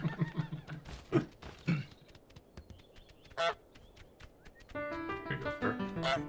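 A cartoon goose honks in Untitled Goose Game, with a few loud, brassy honks between quieter game sounds and soft footsteps, and a bright jingle rising near the end.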